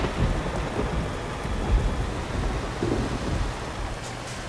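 Steady rain and rolling thunder in the video game Euro Truck Simulator 2, a constant hiss of rainfall with low rumbles swelling beneath it, heard alone without talk.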